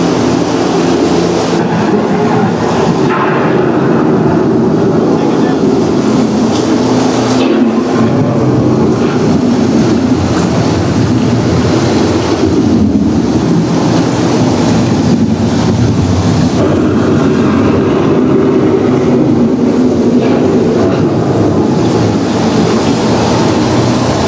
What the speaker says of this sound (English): The approaching storm may seem violent and destructive to us